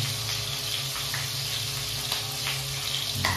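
Fish fries in hot oil while being stirred in a pan, a dense, continuous close sizzle with faint scraping of the stirring throughout.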